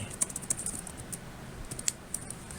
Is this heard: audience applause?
no